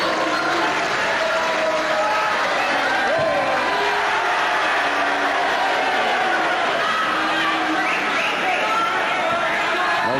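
A wrestling crowd in an arena reacting, with a dense, constant roar of murmuring, shouting and scattered applause, recorded at a distance and heard without a clear commentator's voice on top.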